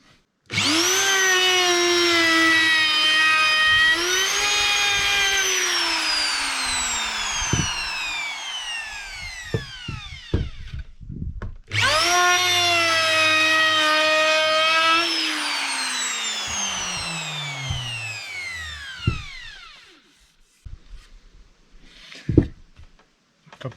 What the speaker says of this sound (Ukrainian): Беремо фрезер.